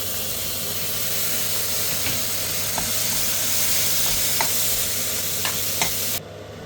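Tomatoes go into frying egg keema masala, giving a continuous loud hiss and sizzle with a few sharp clicks of stirring, before the sound cuts off abruptly near the end.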